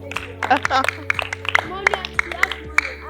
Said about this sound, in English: Clap for her. Clap for her.